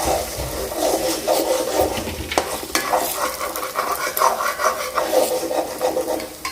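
Eggs sizzle in a hot pan while being stirred and scraped, with continuous frying crackle and irregular scraping strokes up close; no one talks over it.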